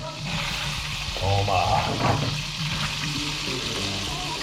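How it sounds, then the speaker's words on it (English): Steady sizzle and crackle of boiled potatoes frying in lobster-flavoured oil, with a brief clattering stir in the middle and faint voices in the background. "now we're frying them in the oil that had the lobster"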